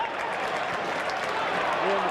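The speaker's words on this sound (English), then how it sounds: "Warm applause for Beardsmore's contributions there" A Manchester United football crowd in the 1988/89 season applauds Beardsmore, a steady wash of clapping from the stands heard in the distance beneath a commentator talking over it.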